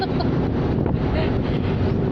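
Wind blows hard across the microphone on a boat trip, a loud, close, continuous rumbling buffet with faint water wash underneath and no clear talk.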